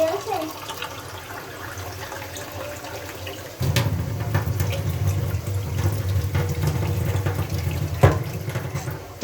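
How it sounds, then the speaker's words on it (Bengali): Tap water runs into a measuring mug. A faint trickle gives way to a louder, fuller gush that continues steadily, with a brief knock near the end. "এটা আমি কলের পানি দিয়ে মেপে দেখলাম কীরকম হয়েছে।"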